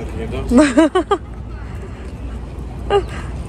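A dog in a park gives a quick run of high yelping barks up close, then one more yelp after a pause, over faint outdoor murmur.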